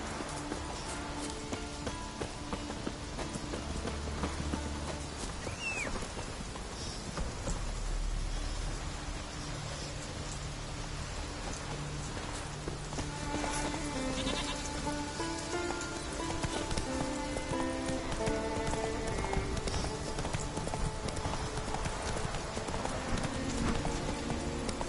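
Horse hooves clip-clop steadily at a gallop through pouring rain in The Witcher 3, Roach's footfalls loud and continuous over the hiss of rainfall, with the odd brief whinny and ambient game music underneath.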